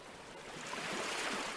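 Ocean waves wash steadily along a shore, a soft continuous surf rush that swells slightly louder toward the end, heard alone without voices.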